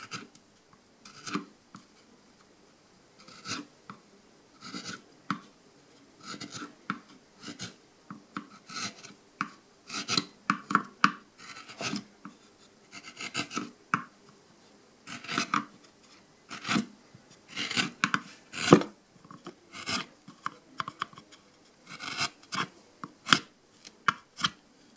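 Wood chisel carving a pallet-wood candle holder, a long run of scattered, close scraping and rasping strokes with irregular rhythm and quiet gaps between cuts.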